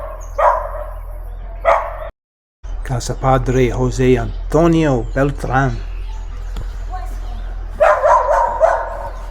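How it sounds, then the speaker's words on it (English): Out in Vado Real, Santander, Colombia, a small yappy dog lets loose a run of high, rapid barks and yips, with someone talking before and after them over a low engine hum. "Got a yappy dog down there."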